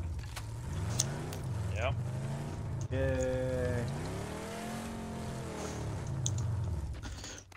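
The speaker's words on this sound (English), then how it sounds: "that car is loud" A loud vehicle engine in PUBG on Xbox One X, revving and droning with shifting pitch throughout, heard under a player's voice.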